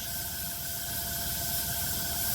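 Continuous steady hiss of an airbrush spraying paint through a fine 0.2 mm nozzle on an Airfix Sea King HU.5 scale model, close and unbroken with a faint tonal whine underneath.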